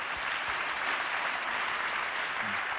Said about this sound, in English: Clap hands for Jesus, somebody.